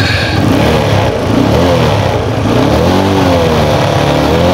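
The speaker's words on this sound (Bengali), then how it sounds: "এই বাইকটার সাউন্ড কন্ডিশনটা আমরা একটু শোনানোর চেষ্টা করতেছি।" A TVS Apache motorcycle engine revs continuously and loudly, close by, with a steady mid-pitched drone that rises and falls slightly through the throttle blips and no talk over it.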